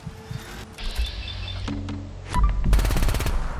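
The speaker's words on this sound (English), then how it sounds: "Go back to our other Gatling here." Gatling gun fire in Fallout 4: two bursts of rapid, dense automatic shots, a shorter one early and a sustained, louder barrage in the second half, with a whirring mechanical hum between them.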